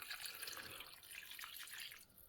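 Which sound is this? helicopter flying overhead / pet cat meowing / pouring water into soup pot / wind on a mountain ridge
pouring water into soup pot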